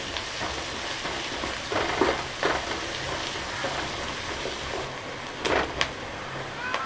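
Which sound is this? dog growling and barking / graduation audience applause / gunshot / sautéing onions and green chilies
sautéing onions and green chilies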